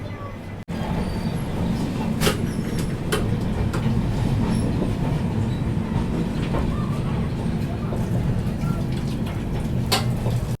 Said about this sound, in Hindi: तो अपनी अगरतला तेजस राजधानी एक्सप्रेस निकल चुकी है दिल्ली के आनंद विहार रेलवे स्टेशन से